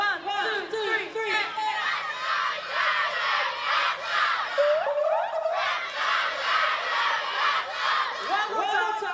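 Spectators at a women's rugby match cheer and shout together in repeated rhythmic bursts, a dense crowd roar with many overlapping voices that stays loud throughout, with chanted counts mixed in.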